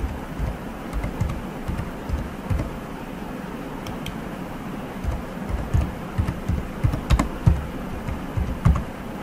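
Keys tap on a computer keyboard as an exam title is typed, a run of quick irregular clicks close by that grow slightly busier toward the end, over a faint room hiss.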